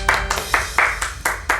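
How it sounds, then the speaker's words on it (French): Rhythmic hand clapping in slow, evenly spaced bursts, about six claps, fairly close and moderately loud, rather than a full crowd roar. "Faites un tonnerre d'applaudissements pour Anthony."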